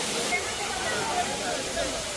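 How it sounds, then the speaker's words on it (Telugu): A waterfall near a hillside temple site pours down in a steady, broad rush of water, loud and continuous, with a faint voice barely showing through the roar. "పైన నుంచి వాటర్ పడతాయి కాబట్టి వాటర్ ఫాల్స్ అంటారు"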